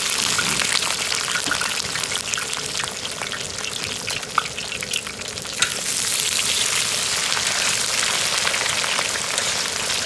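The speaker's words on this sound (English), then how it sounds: "All right, the grease is hot. Let's get these fries in there." French fries frying in hot grease on a Southwest griddle disk, a steady close crackling sizzle that fills the whole stretch, with a couple of brief sharper pops midway.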